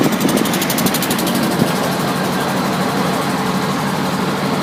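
Tourist express boat pulling away from the shore on the Mekong River, its engine giving a steady, loud droning rumble with a fine rapid vibration throughout, continuous and close with no talk.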